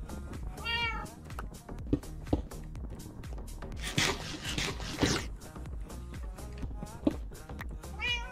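A cat meows several times, close up, with rubbing and scraping movement sounds against wood in between, and a person talks briefly nearby.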